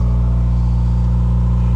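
A Subaru WRX's exhaust rumbles loud and close, a deep steady engine drone holding a low pulsing idle tone without clear rises in pitch.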